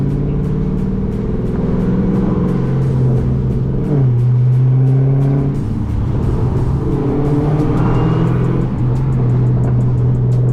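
A powerful supercharged Dodge Challenger Hellcat engine of about 1000 horsepower drones steadily from inside the car, its pitch shifting up and down as it drives and changes gears, loud and continuous.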